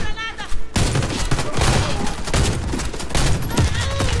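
A Saiga bullpup shotgun firing in the video game Warface, heard as a dense, loud string of blasts that runs almost without a break after a short quieter start, with a voice talking underneath.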